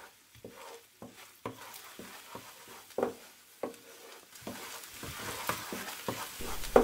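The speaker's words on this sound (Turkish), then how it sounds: "Orta derece ocakta unumuzu sürekli karıştırarak kavuruyoruz." Flour toasting in melted butter with garlic on a medium stove, stirred constantly: soft scraping strokes and light sizzling patter in a quiet, irregular rhythm, close and faint, with no voices.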